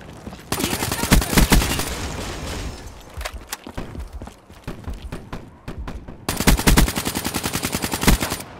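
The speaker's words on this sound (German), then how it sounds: "Wie viele Schüsse willst du noch überleben" Bursts of rapid automatic gunfire in Call of Duty: Black Ops 3 multiplayer on PS4, loud and repeated, with short pauses and scattered single shots between volleys.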